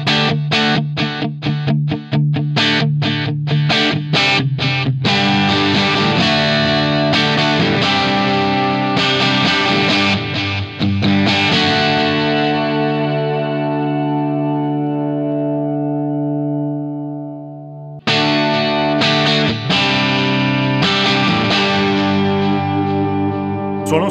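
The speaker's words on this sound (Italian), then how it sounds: "le tre modalità sono tre tipologie di delay differente. Partiamo dalla prima, che si rifà sostanzialmente all'Ecoplex." Electric guitar played through a Universal Audio delay pedal in an Echoplex-style tape delay mode, with quick picked notes repeating in echoes, then a long sustained chord decaying slowly before a fresh burst of playing.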